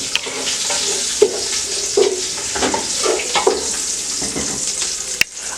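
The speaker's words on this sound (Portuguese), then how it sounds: "o nosso camarão já está exalando o seu cheiro maravilhoso de camarão frito por toda a casa" Shrimp fry in dendê palm oil with a steady, loud, close sizzle, broken by occasional stirring scrapes and clicks and one sharp knock near the end, with no voices.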